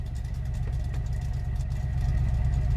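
An old car engine in a video game garage roleplay runs at a steady rough idle after firing up, with mufflers gone and dark smoke from the engine bay, loud and continuous with no talk.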